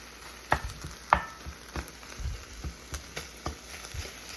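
Lean home-raised Jersey beef frying in a skillet with hardly any fat, a faint soft sizzle broken by sharp taps and scrapes at irregular intervals.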